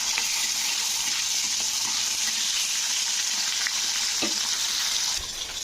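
Bata fish fry in hot oil for a Bengali fish curry, giving a constant bright, hissing sizzle at a fairly close distance with a few faint clicks and no talking.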